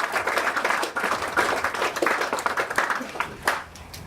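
A crowd claps for the chief guest at a primary school handover ceremony, a busy mix of individual hand claps rising and falling, moderately loud and close, with no talking.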